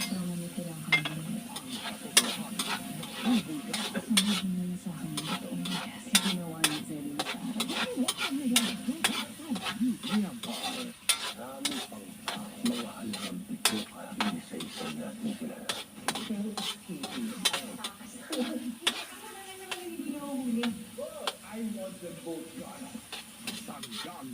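Tomatoes sauté in a pan, a busy close sizzle broken by frequent sharp clinks and scrapes of a utensil against the pan, with talk faintly in the background.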